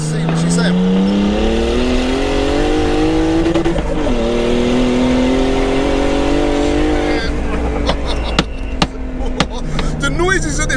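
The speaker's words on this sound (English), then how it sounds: "It sounds proper sick when it's on boost." A turbocharged BMW E36 323i pulls hard on boost, engine note rising steadily in pitch under heavy load, loud and close from inside the car, with faint chatter and sharp clicks near the end.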